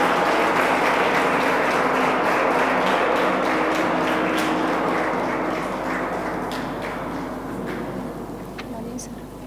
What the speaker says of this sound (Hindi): प्लीज तालियां बजती रहनी चाहिए।